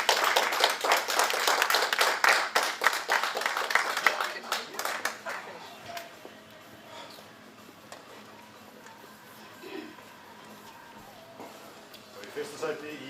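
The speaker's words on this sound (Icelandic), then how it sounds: "Já, það verður gott klapp" Audience clapping at an equipped powerlifting cup meet for a first-place lifter, a burst of rapid applause for about four seconds that tapers off into quieter room noise with faint voices.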